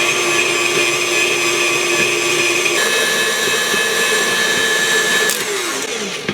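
An electric mixer beating strawberry cream cheese frosting, a loud, steady, close whine that runs without a break and shifts pitch slightly partway through, then eases off at the very end.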